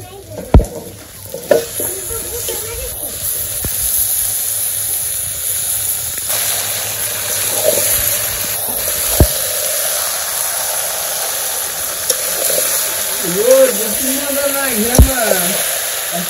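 Marinated meat goes into a pan of fried onions with a loud, steady sizzle and stirring scrapes, brief voices cutting in near the end.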